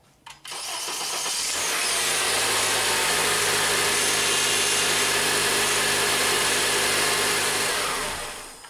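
A 2003-2007 Honda Accord 2.4L engine cranks and catches, then settles into a loud, steady idle that runs several seconds before cutting off, heard close with no talking.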